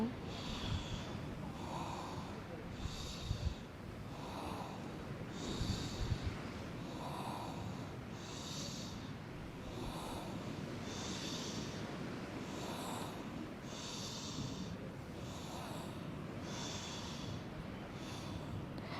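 Rapid, rhythmic breath-of-fire breathing exercise: a steady train of forceful nasal exhalations, roughly one every second, close and fairly loud, continuing evenly without a break.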